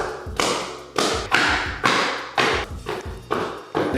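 Tapping on a thin waterproof uncoupling mat laid over a floor before tiling, about seven evenly spaced hollow taps with dull thuds, close and fairly loud, no voices.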